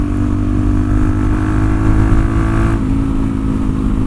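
Suzuki DRZ-4SM motorcycle engine running steadily while being ridden, a loud continuous low drone with constant throttle and a slight shift near the end, no talking.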